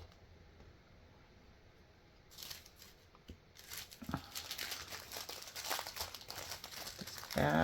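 Scissors snip steadily through rolled polymer clay while cutting out a sailboat earring shape, a close, crisp run of small cuts and crinkling that grows busier partway through, with no talking.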